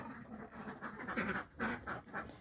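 Ducks on a Thai duck farm with over five hundred birds, quacking in several overlapping bursts at close range with no talk.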